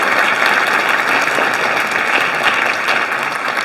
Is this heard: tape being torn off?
no